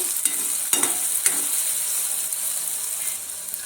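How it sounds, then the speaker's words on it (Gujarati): Rajma masala being stirred and fried in a pan, with a steady bright sizzle of oil and a few scraping spoon strokes early on, close and alone with no talking. "હવે આપણે મિક્સ કરી લઈશું। ઘડીક આપણે ચડવા દઈશું આને।"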